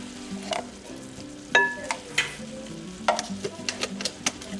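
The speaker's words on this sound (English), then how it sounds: "In this bowl, I'm going to mix this container of ricotta cheese." A 15-ounce container of ricotta cheese being stirred in a bowl, with soft wet mixing sounds and a series of sharp spoon clicks and knocks against the bowl, close and fairly quiet.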